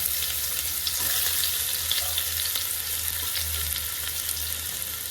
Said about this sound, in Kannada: ಚೆನ್ನಾಗಿ ಕೆಂಪು ಬಣ್ಣ ಬರುವವರೆಗೂ ಫ್ರೈ ಮಾಡಬೇಕು